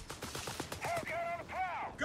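Machine gun fire from an MG nest in the video game Company of Heroes 3 sounds as rapid, clipped bursts against a busy battle soundscape, with a voice speaking over the shots.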